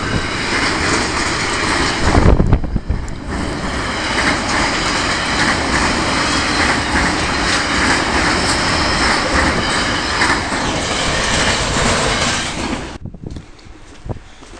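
A freight train led by locomotives SCT 014 and CSR 005 passes at Moss Vale station, a loud, continuous roar of engines and rolling wagons close by, with a brief surge and wheel noise early on before the sound cuts off near the end.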